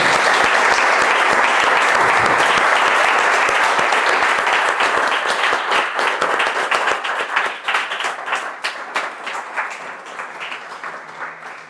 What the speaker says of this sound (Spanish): Vamos a dar un aplauso a Manuel.